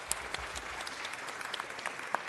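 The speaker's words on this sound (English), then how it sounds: "Let's just give him a round of applause." An audience claps for an atomic bomb survivor about to speak at an event in Los Angeles, a brisk, dense round of applause with individual sharp claps standing out nearby.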